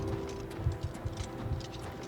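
Horse hooves clip-clop in a steady trotting rhythm from the game Oblivion Remastered, soft and somewhat distant beneath a low ambient hum, with no talk.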